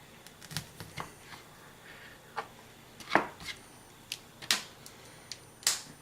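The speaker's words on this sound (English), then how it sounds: "I'm going to cut this into thirds as well." A knife cuts a sausage into thirds on a board, giving a handful of sharp, close, irregular chops and taps over quiet background.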